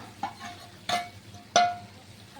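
Potatoes for aloo dum being stirred in a pan with a spoon, a few distinct scraping strokes at steady intervals, close and fairly quiet with faint sizzling between.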